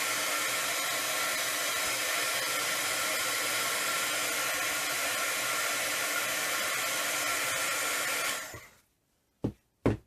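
A heat tool blows a steady, loud whoosh for about eight seconds while melting embossing powder on a handmade Christmas tag, then cuts off, followed by two brief clicks.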